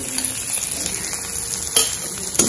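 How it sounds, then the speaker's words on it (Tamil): Mustard seeds, crushed curry leaves and garlic fry in hot oil for rasam, a loud continuous crackling sizzle with two sharper pops or stirs toward the end. "இந்த கடுகு பொரிஞ்சு முடியட்டும்"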